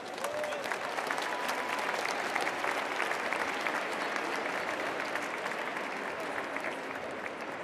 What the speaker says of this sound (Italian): Vous pouvez vous applaudir vous-même très fort.